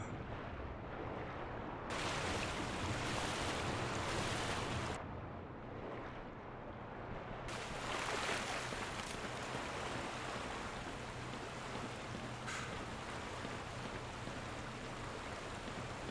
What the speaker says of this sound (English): What kind of odd water flow network is this?